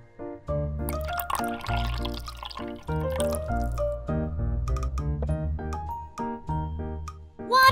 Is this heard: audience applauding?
no